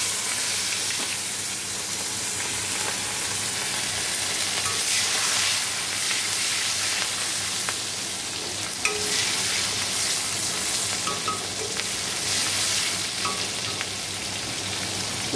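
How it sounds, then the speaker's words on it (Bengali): Cumin seeds and dried red chilies sizzle in hot oil in a wok, a loud, steady frying hiss with faint crackles running unbroken throughout. "কড়াইতে দেখো জিরে শুকনো লঙ্কা ফোড়ন দিয়ে দিয়েছি।"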